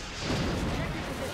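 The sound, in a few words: rocket launch and explosion in video game XCOM Long War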